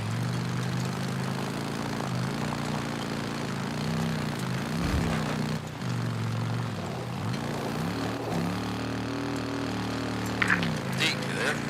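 A helicopter in the video game Days Gone drones steadily with a low rotor hum that rises and falls throughout, joined near the end by a few sharper clicks.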